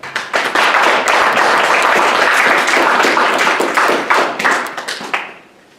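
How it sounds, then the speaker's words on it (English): Audience applause greets a speaker at a college speech competition, loud, steady clapping from a room full of people that holds for about five seconds before tapering off. "And I'd like for you to help me welcome with a big round of applause, Jennifer Humala."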